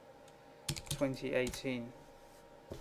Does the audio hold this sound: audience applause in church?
no